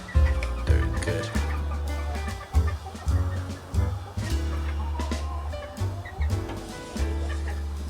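A farm flock of about fifty to sixty chickens clucks loudly and close by in a continuous run of overlapping, rhythmic clucks. No talking.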